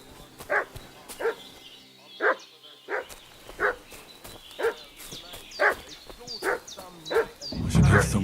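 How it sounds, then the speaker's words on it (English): Dog barking in the medieval game Kingdom Come Deliverance II, a steady run of about a dozen sharp barks spaced roughly half a second apart, loud and fairly close, ending in a louder burst of low rumbling. "What's that dog making such a fuss about?"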